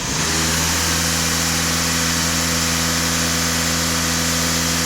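A Skoda Octavia vRS engine held at raised revs around 2500 rpm during diesel particulate filter regeneration checks, a loud steady droning hum with a strong constant tone after a brief rise at the start, close up, no talking.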